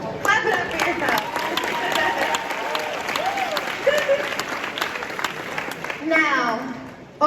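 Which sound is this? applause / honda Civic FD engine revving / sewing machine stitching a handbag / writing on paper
applause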